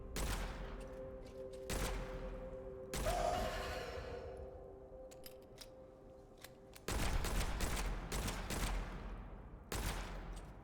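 Bursts of gunfire from a weapon in the video game Witchfire ring out in several separate volleys spaced a second or two apart, each followed by a short decaying tail.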